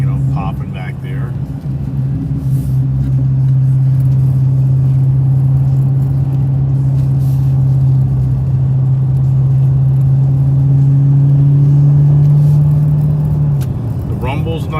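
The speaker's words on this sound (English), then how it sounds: "The rumble's nice in all these Ice Age cars." A Dodge Challenger Redeye muscle car's engine holds a steady, loud low rumble from inside the cabin for most of the span, easing off near the end, with no clear exhaust pops standing out.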